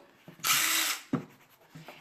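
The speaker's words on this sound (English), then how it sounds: "we're going to take the impact driver or a drill" A power drill or impact driver runs in one sustained whir of about half a second while screwing #8 3/4-inch screws into a wooden coat rack, with short knocks and clicks of handling before and after.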